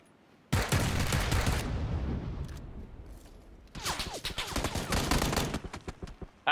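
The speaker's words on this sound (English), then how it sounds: "John, shot in the arse, mate." Rapid gunfire in PUBG, loud crackling bursts of shots near the start and again after a pause, with several clustered rounds over a few seconds.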